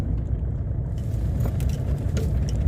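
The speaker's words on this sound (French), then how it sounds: "hop, voilà, je mets ma voiture là tranquillement" A car being parked: a steady low engine rumble close by as it moves slowly into a space, with faint clicks and rattles on top and no speech.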